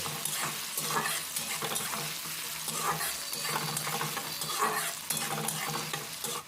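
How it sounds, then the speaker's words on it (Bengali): Chopped onion with minced garlic sizzling in hot oil in a pan, a steady crackling fry broken by the scrape of stirring, close and fairly loud with no voices. "এর মধ্যে দিয়ে দিলাম পেঁয়াজ কুঁচি পেঁয়াজটা হালকা ভেজে নিতে হবে"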